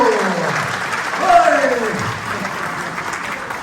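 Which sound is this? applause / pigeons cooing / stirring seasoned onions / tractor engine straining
applause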